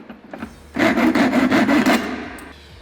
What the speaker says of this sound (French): je vais utiliser pour le coup une petite scie pas chère japonaise à 10 balles de chez Leroy Merlin pour couper ça en douceur